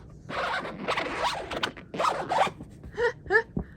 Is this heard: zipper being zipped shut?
yes